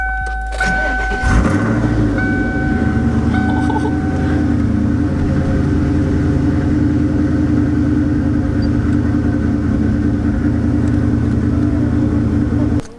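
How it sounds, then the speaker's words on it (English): A car fitted with a newly installed wideband sensor cranks briefly and catches, then settles into a loud, steady, rumbling idle close by for the rest of the stretch, with no talking. "We're gonna crank over the car right now and see if this thing actually reads."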